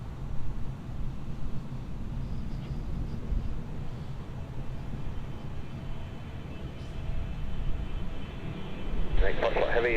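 An airplane at Los Angeles airport gives off a low, steady engine rumble from some distance, which swells slightly near the end, while voices talk over a radio.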